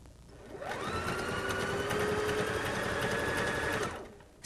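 A Bernina Artista 180 sewing machine runs steadily for about three seconds, stitching ribbing onto knit fabric with a fast, even whir that speeds up at the start and slows down at the end, heard alone and close.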